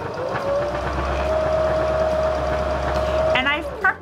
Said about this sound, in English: So we're going to stitch from the top to the bottom, following that marked line.